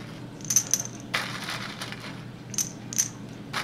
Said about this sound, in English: Now to the second tube, our control tube, we'll add the same volume of our plastic peas